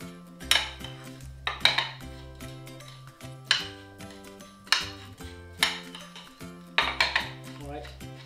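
A spoon scraping and clinking against a container while stirring melted butter, a series of sharp metallic knocks with a ringing tone, close and regular, about a dozen strokes.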